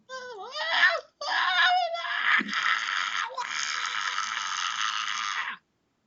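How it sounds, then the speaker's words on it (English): A woman screams and wails over and over, high and strained, in a brief run of anguished cries that ends in a long sustained shriek, set as ambience for a tabletop campaign. "you already hear the continual screams of a woman"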